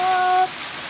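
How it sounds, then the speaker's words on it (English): Hail falls outside in a continuous hiss of small impacts, with a faint steady tone over it for the first half second, no voices. "We have hail again."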